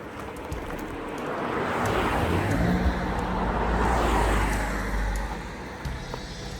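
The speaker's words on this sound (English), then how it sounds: "Car's coming." A car approaches along a road near Ricketts Glen, its tire and engine noise swelling from faint to loud, peaking midway, then fading as it passes, with no talk.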